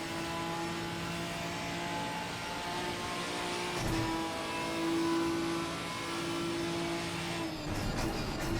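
Race car with a 3.7 litre naturally aspirated Ford Cyclone V6 at Bathurst, heard on board, a steady loud engine drone holding pitch then rising and dropping through shifts near the end, with no talk over it.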